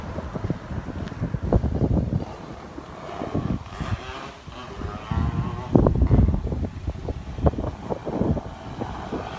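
Steady wind buffeting outdoors while a large black kite with a hummer flies, a continuous rough rushing roar with gusty swells and bursts that stays loud throughout.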